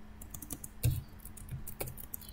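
Someone types on a computer keyboard with quiet, scattered keystrokes and a couple of louder key presses, close by and with no talk.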